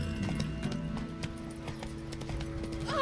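Hooves of a ridden horse in a video game clip-clop in a steady rhythm at moderate distance, quiet and alone, with a faint whinny near the end.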